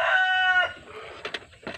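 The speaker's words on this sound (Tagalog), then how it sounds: "yung manok ko dyan na tandang" A rooster crows loudly and close by in one long, strained call, followed by a few softer clucks and rustles.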